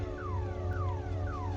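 A structural damage alarm sounds in a Cessna cockpit in Microsoft Flight Simulator: a repeating falling electronic tone, three sweeps in quick succession over a steady low engine drone.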